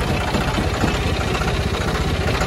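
A John Deere 5310 tractor engine idling at very low RPM, a steady, continuous mid-to-low rumble with a faint knocking pulse, close and unbroken with no talking.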